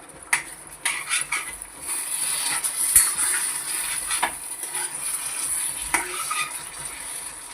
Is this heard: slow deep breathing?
no